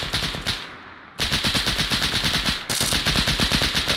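In Arma 3, a big gun fires long rapid automatic bursts, loud and close, with one brief pause near the start and another short gap midway.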